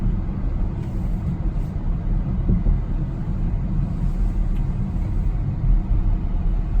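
A 2019 BMW X7 40i cruising in comfort mode, a low steady cabin rumble of road and engine noise, smooth and muted, with faint occasional ticks.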